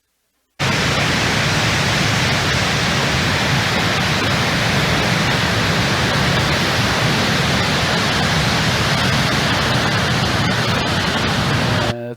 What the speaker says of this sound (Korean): 저 폭포 높이가 50m